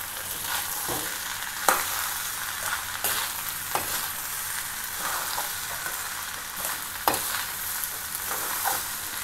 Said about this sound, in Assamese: এইখিনি ভাজি কৰা হৈ গৈছে।